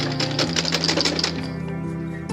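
A sewing machine stitches half-inch seams on a princess dart in fabric, its needle chattering in a fast, even rhythm up close, then slowing and fading out with no talking.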